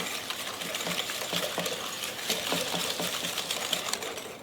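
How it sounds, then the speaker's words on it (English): Egg yolks and sugar whisked by hand in a mixing bowl, with rapid, steady wire clinks and swishes repeating under a continuous wet churning, close and without voices. "I'm going to add my 6 egg yolks and my 2/3 of a cup of sugar. And I'm going to whisk this until it becomes really smooth."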